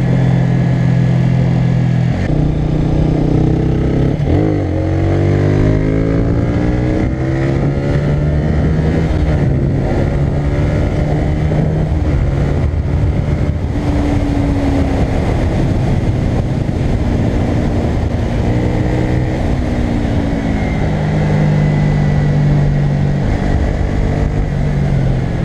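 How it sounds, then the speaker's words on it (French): A Honda CBR125R, 2016 model, fitted with a Black Widow exhaust, sings loudly on the road. Its engine note rises and falls steadily as it revs and accelerates through the gears, close and continuous throughout. "Il chante bien le petit pot Black Widow là."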